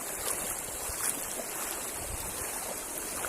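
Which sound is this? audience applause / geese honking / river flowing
river flowing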